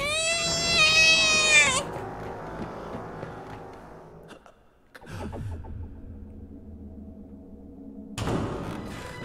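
A cat meows in a haunted house horror video game, a loud, strained, wailing cry at the start, followed by thuds and eerie low rumbling, then a sudden loud burst near the end.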